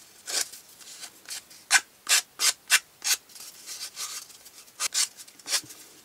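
A nail file rasps across the edge of a cardboard toilet paper roll in quick, short strokes, close and distinct, with brief pauses between bursts.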